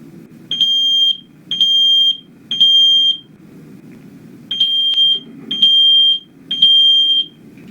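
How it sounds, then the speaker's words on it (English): Smoke alarm going off in its three-beep pattern: loud, shrill electronic tones come in two sets of three evenly spaced beeps with a short pause between the sets, over a low background rumble. "A smoke alarm has 3 beeps."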